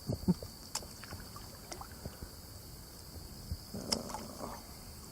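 A canoe is paddled on a quiet stream at Chester Woods, soft irregular paddle dips, splashes and wooden knocks against the hull, close and faint over gentle water trickle.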